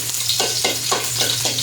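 Corned beef sautéed in a frying pan, with a steady close sizzle and repeated scraping strokes of a utensil stirring the meat, all without any talking.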